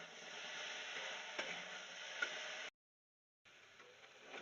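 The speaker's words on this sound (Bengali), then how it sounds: "শিম ভাজা করছি।" Flat beans frying in a pan while being stirred, a steady close sizzle with scraping strokes, cutting out briefly before resuming.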